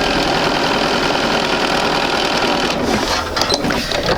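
A sewing machine stitches quilt pieces for an intermediate sampler quilt, running steadily and loudly without pause, its dense mechanical hum continuing alone with no one speaking.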